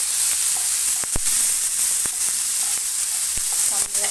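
Sliced potatoes sizzle steadily in hot oil in a pan for a Hindu fasting (vrat) thali, a continuous close frying hiss broken by a few sharp clicks and light stirring knocks, with no talking.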